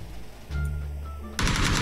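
Gunfire in the PUBG video game cracks out as a sudden loud automatic burst near the end, after a short stretch of quieter game sound.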